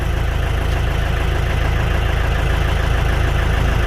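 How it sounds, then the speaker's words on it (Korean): A steady, loud LS PS80 tractor engine drone under load with a deep rumbling hum holds constant throughout, the heavy motor running hard up close. "지금 엔진이 힘을 받고 있는데"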